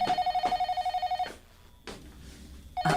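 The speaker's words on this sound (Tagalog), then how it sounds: "Ang telepono." A telephone rings indoors in a house with a steady, repeating electronic ring: two trilling bursts, a short pause, then the ring starts again, loud and close with no talking.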